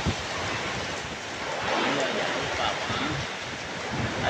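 Heavy rain driven by strong gusting wind makes a loud, dense, continuous roar with a rushing hiss that swells and eases slightly throughout.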